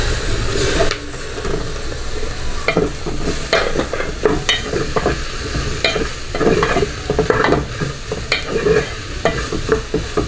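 Chicken gizzards frying in a pan with colorau and saffron, a loud hissing sizzle broken by repeated scraping and stirring strokes, close and continuous with no voices.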